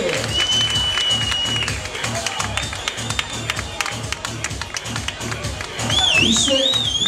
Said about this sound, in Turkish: Koca bir alkış gelsin mi İstanbul?